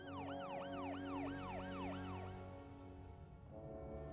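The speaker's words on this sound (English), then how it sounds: "we got the ambulance, they're on the way." An ambulance siren wails in a repeating rising-and-falling pattern over a steady engine drone, loud and near at first, then cutting out and shifting to a steadier tone near the end.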